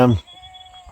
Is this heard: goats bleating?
yes